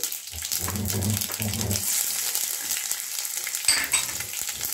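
Dry red chillies and chopped ginger sizzle and crackle in hot oil for upma, a steady close frying hiss with a few stirring clatters and low thumps.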